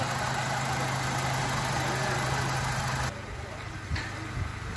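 A steady car engine idles with a constant low hum, the tone dropping slightly partway through, with a couple of faint knocks near the end.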